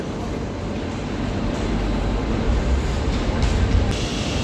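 A train arrives at a European railway station platform on a line toward Lisbon, producing a loud, continuous low rumble and hiss that swells slightly as it draws nearer.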